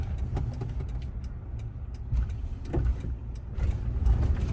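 Steady road and engine rumble inside a 2013 Toyota Tacoma truck while it drives, a low continuous drone with faint ticks and rattles, close and even in level.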